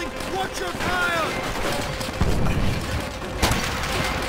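Gunfire rattles in Call of Duty: World at War, with overlapping shots and bursts crackling through a noisy battlefield, one sharper report standing out near the end.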